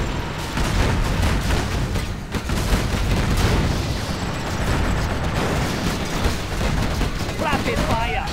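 Dense, continuous gunfire and explosions from the real-time strategy battle game Command and Conquer Generals Zero Hour in a China campaign mission, a loud unbroken rattle of rapid shots and booms throughout.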